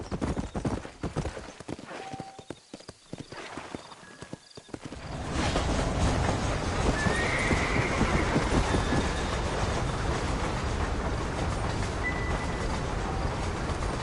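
Horse hooves clip-clop on a trail in the Red Dead Redemption video game, first as a sparse, uneven rhythm, then rising into a loud, continuous rush of galloping under a steady noisy bed, with no talking.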